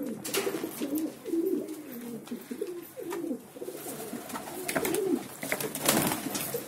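Desi pigeons (kabootar) in Patna, Bihar, coo in repeated soft throaty phrases, close by, over light background noise.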